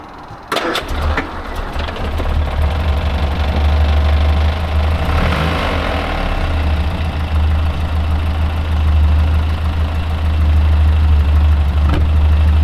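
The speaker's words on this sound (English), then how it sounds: "the next thing to do is obviously run the car up again and just recheck for leaks." Rover P6 car engine cranks and catches, then settles into a steady, loud idle close by with a low, even rumble, with no talk over it.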